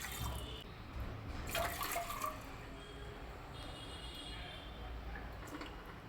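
Water poured into a pressure cooker holding corn, a faint trickling splash with a few brighter spatters, quiet and steady in a kitchen.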